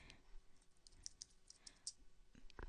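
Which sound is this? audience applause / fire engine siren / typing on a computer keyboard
typing on a computer keyboard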